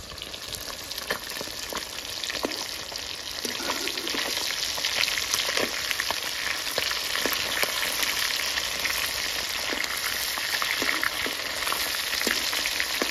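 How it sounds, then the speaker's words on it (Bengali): Four pond fish fry in hot oil, a continuous close sizzle and crackle with scattered pops and spits throughout. "আমরা তেল দিয়েছি, বেশিক্ষণ লাগবে না, অল্প টাইমে হয়ে যাবে। এই 4টা মাছ ভাজা"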